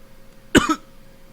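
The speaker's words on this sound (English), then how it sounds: "Forgive me for coughing." Two sharp coughs from a nearby man, the first a quick double burst and the second cut off at the end, with quiet room tone between them.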